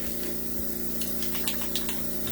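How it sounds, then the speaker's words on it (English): Hissing spray gun misting thinner over a painted piece in a steady continuous spray, with a low motor or compressor hum underneath and faint bursts of fluctuation. "I'm going to spray over the whole thing again with some thinner."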